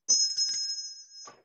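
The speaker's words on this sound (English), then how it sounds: "The bell rings as Tommy walks in." A single bright ring of a motel door bell as someone walks in, with a sustained metallic tone decaying over about a second alongside soft rustling.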